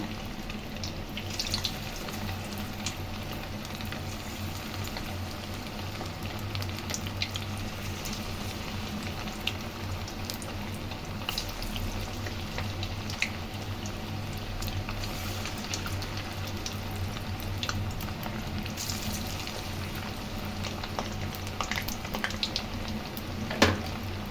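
Egg 65 pieces fry in a pan of hot oil, giving a steady, even sizzle that runs unbroken throughout, close and moderately loud, with no talking.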